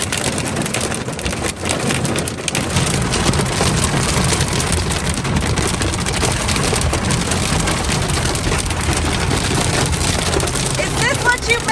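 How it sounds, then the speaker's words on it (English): Hailstones batter hard surfaces in a sudden storm near a river in Leavenworth, Washington, a dense, loud, continuous rattling patter with sharp splintering clicks throughout, while people talk over it. "Is that hail? There's hail."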